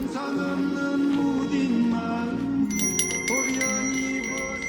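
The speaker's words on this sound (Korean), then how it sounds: "처마 끝에 달려 허공을 가르고 있는 저 풍경 소리 언제 봐도 아름답네요" A Korean temple wind bell hanging from the eaves rings with bright, sustained metallic tones, several strikes overlapping near the end over a steady background hum.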